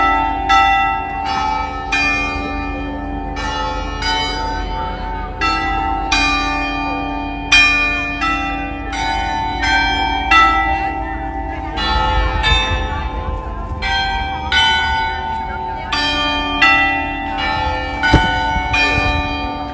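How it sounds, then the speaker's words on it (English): Church bells at the Fatima shrine ring in a clear repeated pattern of sharp strikes with long, shimmering tones, loud and close, with faint crowd murmur beneath. "the ringing bells of Fatima"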